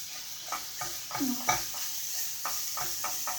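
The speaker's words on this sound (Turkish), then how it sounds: "Güzel kavurmaya başlayalım." Onions stirred and sautéed in oil in a pan for a Kayseri yağlama dish, with soft scraping strokes in a steady rhythm over a faint, continuous sizzle, close and alone without talk.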